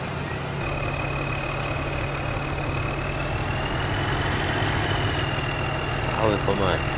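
Tractor engine idling in a farming video game: a steady, continuous low rumble with a faint whine held evenly throughout, no sharp changes.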